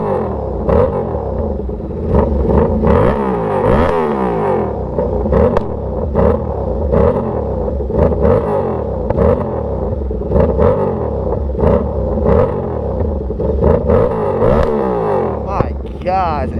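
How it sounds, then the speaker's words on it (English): An Aprilia RS660 sport bike with a custom exhaust revs repeatedly, its engine rising and falling in pitch with sharp throttle blips, loud and close throughout. "So we're gonna put this bad boy down and give it a couple revs."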